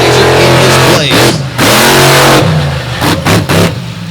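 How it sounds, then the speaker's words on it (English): A Chevrolet demolition derby car's engine revs loud and close at an outdoor event, rising and falling in repeated surges with brief dips between throttle blips. "Just getting warmed up in this awesome-looking Chevrolet out of the Hoosier State."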